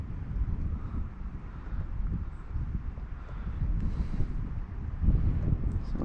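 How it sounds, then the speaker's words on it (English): Strong wind buffets the microphone on a kayak at sea off Boca Grande, a steady low roaring rumble with gusty swells, close and loud, with no voices. "The wind's blowing almost directly at me"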